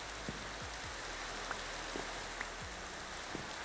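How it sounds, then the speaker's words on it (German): Rain falls in the Minecraft: Sky Factory 4 video game as a steady, faint hiss, with a few scattered soft pops and drips on top. "Es regnet sogar, Junge."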